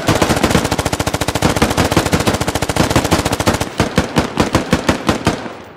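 Rapid automatic gunfire in a video game, a loud sustained burst of closely spaced shots that slows into separate, spaced shots near the end, with no talking over it.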